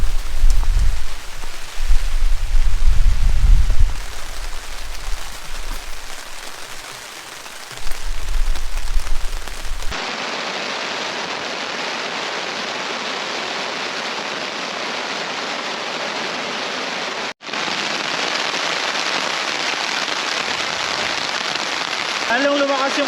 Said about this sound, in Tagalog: Lalong lumakas yung ulan mga tol.